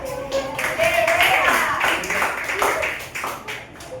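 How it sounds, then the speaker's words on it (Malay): A classroom group claps after a student presentation, a burst of hand claps that swells then tapers off, with voices talking over it. "Bagi tepukan."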